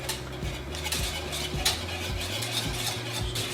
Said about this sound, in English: Again, stirring all the time, make sure you keep this nice and smooth, this sauce.